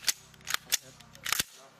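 Rifle actions racked sharply during close quarters battle training by U.S. Marines and Filipino troops, several crisp metallic clacks in an uneven run, close and fairly loud.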